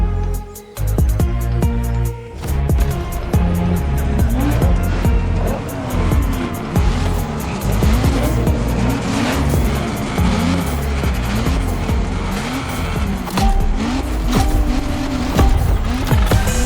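Donk and lowrider cars race in The Crew Motorfest, engines roaring close and loud throughout with repeated tire squeals and skids as they corner, and no speech.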